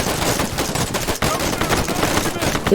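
Dense, continuous automatic gunfire from a Vietnam War video game roars loud and close, with overlapping rapid shots barely pausing for a moment midway; a voice can be heard under it.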